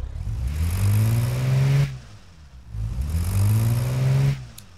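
A video game car engine revs hard twice, each rise holding a loud, rising mid-pitched drone for over a second before cutting off sharply, with a brief quieter idle between the bursts.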